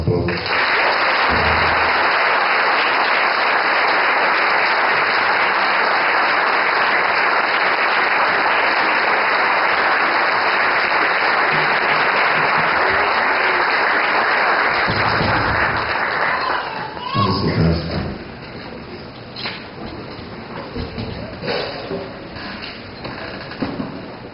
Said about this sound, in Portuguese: Vamos dar um aplauso.